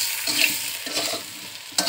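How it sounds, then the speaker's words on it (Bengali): Potato pieces with salt and turmeric lightly frying in hot oil, a bright continuous sizzle close up, broken by a few spatula scrapes and one sharp knock near the end, with no voices. "লবণ হলুদ দিয়ে আমি এগুলো একটু হালকা ভেজে নেব।"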